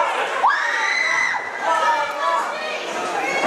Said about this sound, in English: Definitely a solid crowd for Green Machine Mike Orlando